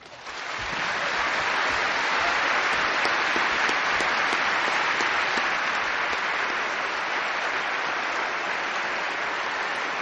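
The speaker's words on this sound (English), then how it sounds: "very much appreciate your applause for me" Sustained, dense audience applause at a debate on the resurrection of Jesus, swelling quickly and holding steady and loud for several seconds with no voices over it.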